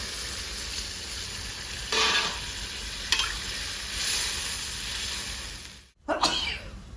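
Water hits a hot pan of rohu fish and potato curry, setting off loud, close bursts of hissing sizzle that rise and fade several times over a steady frying background.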